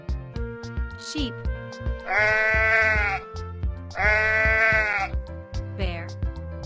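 Sheep bleating in two long, quavering calls of about a second each, clear and close, heard over a bouncy background tune with no talking.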